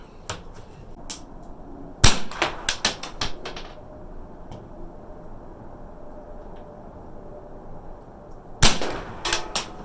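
A CMMG .22LR conversion kit pistol fires shots at a 50-yard range. Sharp, fairly loud cracks come in two clusters, with a quieter gap between them, over steady outdoor background noise.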